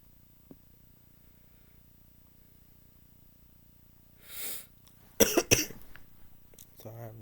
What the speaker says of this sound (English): Sorry, I have a bad cough.